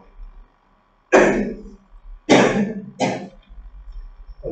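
Three loud, close bursts of coughing and harsh throat clearing, spaced about a second apart, in an otherwise quiet indoor room during a training session.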